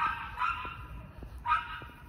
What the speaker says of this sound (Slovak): Dúfam, že budete počuť z toho psa.